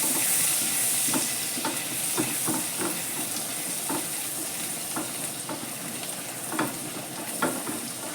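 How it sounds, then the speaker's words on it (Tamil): Crushed garlic and ginger sizzle steadily in a hot kadai, a constant frying hiss broken by the scrape and tap of a spatula stirring at irregular intervals, close and clear without talk. "இப்போ நான் பூண்டு பொடியாக அரைஞ்ச பூண்டு, இஞ்சி போட்டு வதக்கிறேன்."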